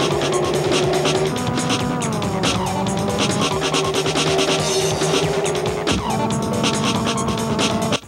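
Road racing cars from a video game roar past with loud, sustained engine whine, shifting pitch as gears change, and sharp tire squeals and skids cutting through.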